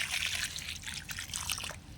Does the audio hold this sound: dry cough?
no